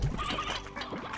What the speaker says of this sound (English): Now it's time to forcefully eject my chickens.